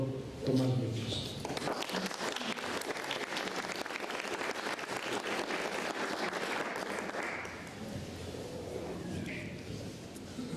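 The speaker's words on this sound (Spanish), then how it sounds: "con un gran aplauso, un cálido aplauso, les pido que recibamos al doctor Tomás Muñoz" Sustained applause from an audience welcoming a speaker, Dr. Tomás Muñoz, at an academic talk: dense, steady clapping rises quickly and holds loud for about seven seconds, then thins as a few voices surface near the end.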